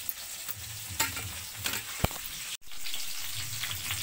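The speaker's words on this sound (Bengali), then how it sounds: "এখন ফুলকপি ভাজছি" Cauliflower fries in a pan in a home kitchen, a steady sizzle with stirring and scraping. There are a couple of sharp clinks midway and a brief dropout before the sizzle comes back full.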